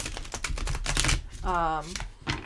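Thick tarot cards being shuffled by hand, quick papery riffling and tapping bursts close up, with a brief tonal voice sound breaking in partway.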